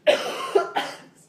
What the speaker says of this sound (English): Sometimes I can't control my coughing fits.